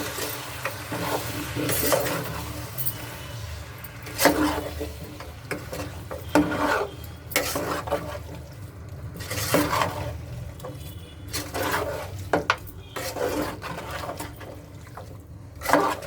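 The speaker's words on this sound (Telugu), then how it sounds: "3 స్పూన్లు సాల్ట్ వేసుకొని ఇలా కలుపుకోవాలండి." A Telangana-style mutton curry with salt is stirred in a pot, giving irregular close scrapes and clinks of a spoon against metal over a faint sizzle, with no talk.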